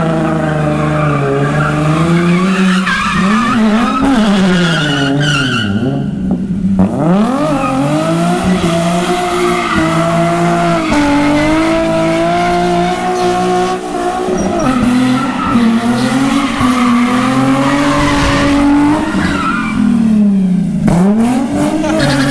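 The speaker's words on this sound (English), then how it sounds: "This is my first ever drift attempt." Nissan G35 with a VQ35HR engine drifting, its tires skidding in long, loud, wavering squeals over a constant engine roar that rises and falls with revving, close and unbroken throughout.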